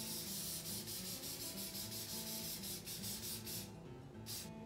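A baking pan is greased for banana bread, with brisk, continuous rubbing strokes scraping close by in an even rhythm before tapering slightly at the end.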